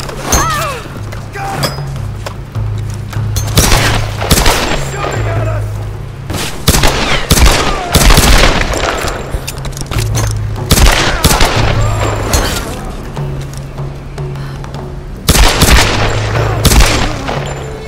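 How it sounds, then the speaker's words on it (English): Tomb Raider on Xbox One: dense bursts of in-game gunfire, loud sharp shots and rapid volleys with booming thuds, under shouted voices and a low droning background. "He's shooting at us!"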